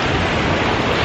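Broadband roar of beach surf and wind buffeting the microphone during pouring rain, loud and steady throughout with no distinct breaks.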